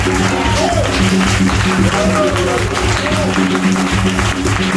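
A church congregation applauds with steady clapping under a voice that keeps talking over it, with a low hum and music-like tones filling the room.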